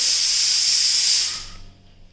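A pressure cooker of boiling potatoes vents steam in a loud, continuous hiss that holds steady, then tapers off and dies away into quiet.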